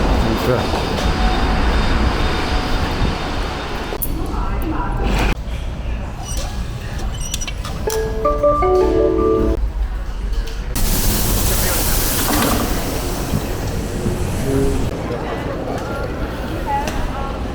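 Busy indoor rail station ambience in Vienna: rumbling train noise, clattering and hissing, with people talking nearby throughout.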